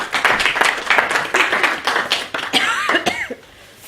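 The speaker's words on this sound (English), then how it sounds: "a round of applause for my robot pieces as they break themselves up" An audience at a computer science magic talk gives a round of applause for volunteers taking part in a robot demonstration, a few seconds of scattered, moderately close clapping with some coughs, fading out with a brief voice.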